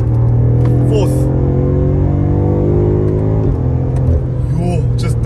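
Engine of a BMW M5 Competition rising and falling in pitch as the car is driven hard through corners, close and steady from inside the cabin, with someone speaking over it.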